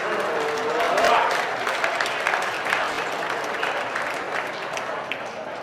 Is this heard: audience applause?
yes